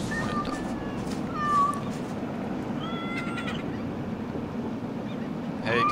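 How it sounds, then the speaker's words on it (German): A cat meows several times in the video game Batman: Arkham City, with short tonal cries over a steady game ambience that lasts the whole time, and one more meow right at the end. "Hey, Katze."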